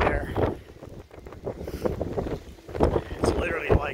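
Strong wind gusting hard across the microphone on a slippery dock near a parked truck in winter, a loud rough roar that surges and rumbles in uneven bursts.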